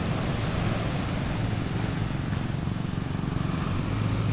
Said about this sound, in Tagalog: Pang surfing ata yung alon ngayon ah.